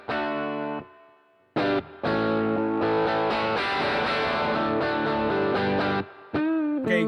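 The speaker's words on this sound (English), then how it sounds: "Okay, overdrive. Okay, visually, this is modeled after a Boss OD1." An electric guitar played through an overdrive pedal emulation styled after the Boss OD-1 in IK Multimedia MixBox, sustained gritty chords and notes with brief pauses, close and alone.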